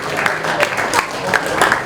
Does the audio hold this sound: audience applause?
yes